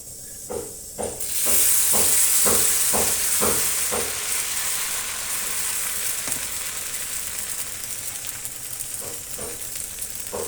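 An onion dosa sizzles and hisses loudly in oil on a hot pan, with a burst of spattering frying and several rhythmic scraping or tapping strokes, the steady sizzle continuing throughout.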